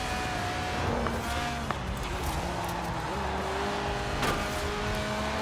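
A video-game sports car with a 1.8-litre, 190-horsepower engine revving to 8,000 RPM hums steadily with shifting tonal pitch, revving through gears, continuous and fairly loud with no talking, in Forza Horizon 4.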